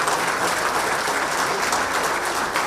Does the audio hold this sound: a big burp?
no